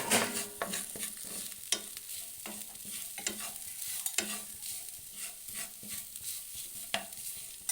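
Grated coconut sautéed and stirred in a pan, giving a steady soft sizzle broken by repeated scraping and stirring clicks, close and moderately quiet with no talking.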